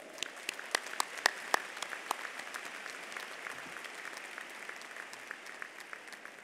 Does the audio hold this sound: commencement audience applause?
yes